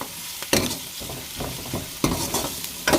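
Spices frying in a small pan on the way to light browning for a mixed vegetable and keema dish, a steady sizzle broken by louder scraping stir strokes at intervals, with no talking.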